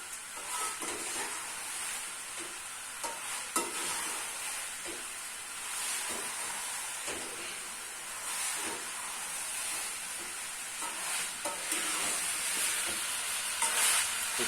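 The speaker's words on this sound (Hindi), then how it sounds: "और इसका फ्लेम ऑन कर देंगे और सब चीजों को करेंगे अच्छे से मिक्स।" Okra and onion stir-fry over a flame: a continuous hissing sizzle with repeated scraping stirs and occasional clinks as the pan is mixed, close by and without voices.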